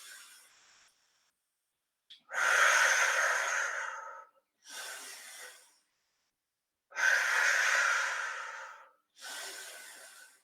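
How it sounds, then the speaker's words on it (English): Paced breathing during the hundred exercise in a mat Pilates class: four strong breaths alternating long and short, loud and close with silent gaps between them. "Breathing in. Breathing out."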